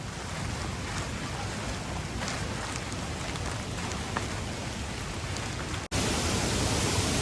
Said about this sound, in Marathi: पाऊस पण आता आलाय